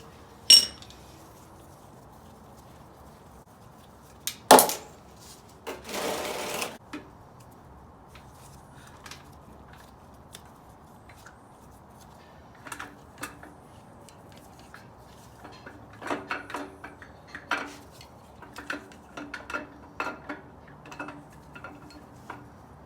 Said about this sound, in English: now I'm just gonna go ahead and pull off the timing gear and the chain